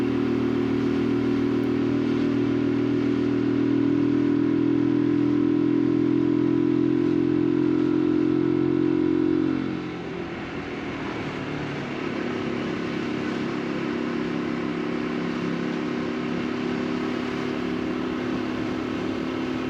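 A UM X Street RS 125 motorcycle running at high revs on B roads, a loud steady engine drone with strong harmonics that drops abruptly near the midpoint and settles into a lower, rougher hum, with no talk.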